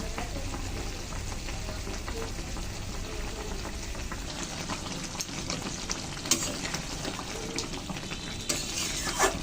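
Cumin paste and ginger paste fry in a pan for a steamed eggplant dish, giving a steady close sizzle with occasional stirring scrapes and clinks.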